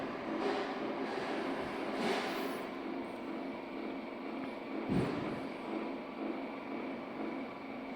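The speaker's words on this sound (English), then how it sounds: "so they just need to run around on the gearbox and grease the gears up a little bit to make it a little bit quieter" A Bode lathe headstock gearbox runs with a steady mechanical drone and gear whine, dry and in need of grease after standing idle, with a few faint clunks along the way.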